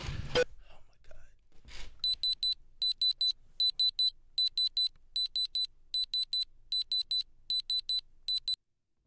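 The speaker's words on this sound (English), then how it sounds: "I actually have a diamond tester right here." A handheld diamond tester beeps while checked against the diamonds on a watch, sounding a long run of rapid, evenly spaced triple bleeps, loud and close, after a brief rustle at the start.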